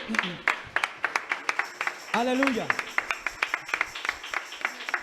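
A church congregation at a Spanish-language worship service claps in a steady, fast rhythm of sharp, evenly spaced claps, with a voice calling out and singing over it.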